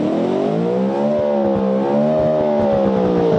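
A 1.4-litre engine in a 1960s-style supercar, built in Automation and driven in BeamNG.drive, revs steadily with a strong harmonic drone that rises slightly and then holds, loud and close with no talking.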